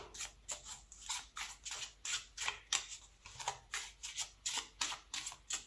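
A deck of playing cards is shuffled by hand, giving a quick, quiet run of crisp riffling bursts in a steady rhythm close by, with no talk.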